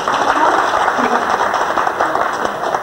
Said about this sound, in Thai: ขอเสียงปรบมือดังๆนะคะ